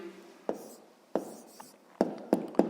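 A pen writes an answer on paper in short scratching strokes with several distinct taps, close and quiet, in a still room with no talk.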